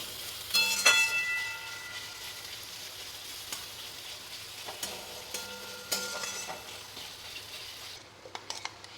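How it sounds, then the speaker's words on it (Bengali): Sliced onions fry gently in oil for a Bengali chicken curry, a steady, hissing sizzle underneath with occasional metallic scrapes and taps as a spatula stirs them in the pan. "এই পেঁয়াজটা বেশি লাল করে ভাজতে হবে না, হালকা হালকা করে অল্প একটু রং আসা মাত্রই"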